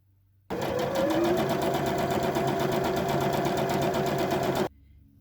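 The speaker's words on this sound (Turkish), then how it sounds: "Şimdi kumaşın alt tarafını dikiyorum." A sewing machine stitching the bottom edge of fabric for a portfolio bag lining, a steady rapid whirring run lasting about four seconds, close and loud, starting and stopping abruptly in a quiet room.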